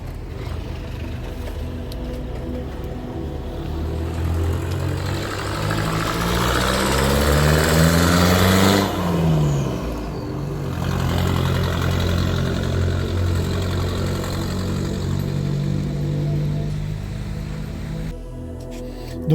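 A rescued 1960 Volkswagen Beetle convertible, found abandoned, drives out of a field under its own power, its air-cooled engine chugging steadily and rising in pitch as it pulls away, with a brief louder pass midway.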